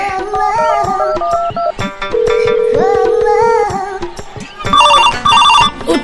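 A loud electronic phone ringtone plays a bright melodic pattern, pauses briefly, then repeats in short chirpy bursts.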